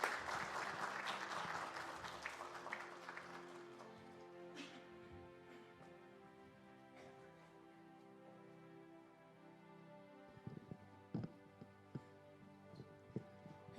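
A church congregation at a Sunday worship service claps warmly for a couple of seconds, then the applause fades into a quiet hall with scattered faint knocks and movement.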